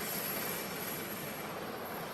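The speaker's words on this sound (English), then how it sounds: "Gavin Newsom, Melania Trump, and Donald Trump are inside of this chopper" Presidential helicopter carrying officials, a steady broadband turbine whine and rush heard continuously at moderate distance, with no talking.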